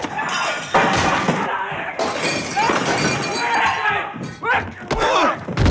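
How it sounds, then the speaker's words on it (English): Objects shatter and crash around a room in the video game Prey, with repeated glass breaks, clinks and thuds in quick irregular bursts, loud and close, while a voice talks over much of it. "smashing everything in the room just to be safe"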